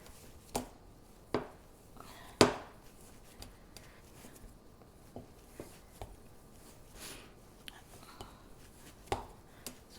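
Rice flour dough for steamed modak, still hot, worked and kneaded by hand, giving soft irregular slaps and pats with a few sharper presses, close and quiet, with no one talking.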